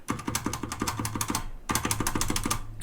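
Keys on a Leopold mechanical keyboard with low-noise red switches and an older, barely lubricated stabilizer are typed on. Close, rapid clacks come in a quick run, stop briefly, then start again in a second burst.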